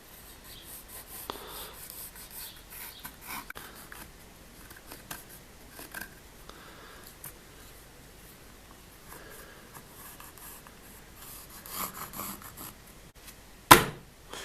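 Pencil marks are scratched and rubbed onto a wooden board while laying out letters, a run of faint, intermittent scraping strokes with a sharper knock near the end.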